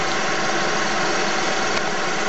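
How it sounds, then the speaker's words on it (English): A Harris turbine with four nozzles runs in a micro hydro system, giving a steady, dense whir and rush of water that holds even and loud throughout, with no talking. "Right there is the turbine housing, which you can probably hear in the background"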